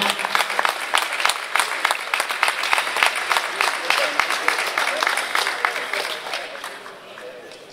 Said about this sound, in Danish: Skal vi lige klappe lidt af ham?